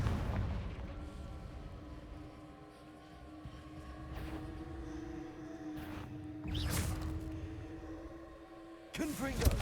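Confringo blasting-spell explosions in the Hogwarts Legacy video game, several sharp booming bursts over a low rumbling ambience, the last one loud and close.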